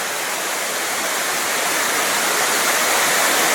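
Creek water rushes steadily beside the E&N Railway line between Alberni Summit and Cameron Lake in November, a loud, unbroken broadband roar of flowing water close by with no voices.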